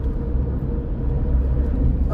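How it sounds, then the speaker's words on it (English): Highway traffic heard from inside a moving car, a steady low road rumble and engine drone with no distinct passes and no talking. "that traffic going back the other direction is horrible"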